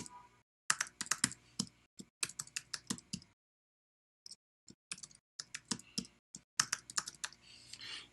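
Bursts of computer keyboard typing while a username is entered during a user sign-up, quick close clicks in irregular runs with a brief pause in the middle.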